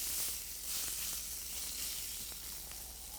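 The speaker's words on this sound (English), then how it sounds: "Ooh, listen to that sear." Tuna searing in a very hot pan gives a dense, steady sizzle, close and continuous for a few seconds with no talk over it.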